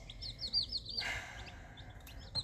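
Newly arrived baby chicks cheep in a quick run of high, thin peeps, close by and fairly soft, with a brief rustle partway through.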